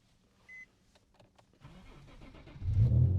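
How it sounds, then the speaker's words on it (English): An Infiniti G37 Coupe with a manual gearbox starting up: a short electronic chime and a few clicks, then the starter whirs and the engine catches into a loud, close rumble at the end. "now the car starts."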